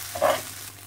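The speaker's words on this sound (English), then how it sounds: "the rice has been fried for about 2 minutes now" A brief burst of sizzling as rice fries in a pan and is stirred, a short bright crackle that rises then fades within a second.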